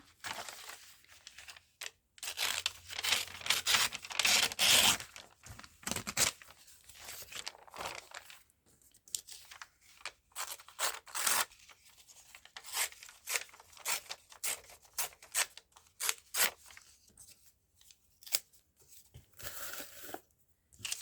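Patterned craft paper being torn by hand: repeated ripping and crinkling strokes in short bursts with pauses, close and fairly loud, with no talking.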